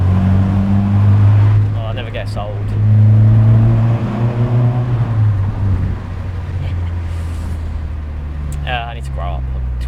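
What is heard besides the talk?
car exhaust roaring through a tunnel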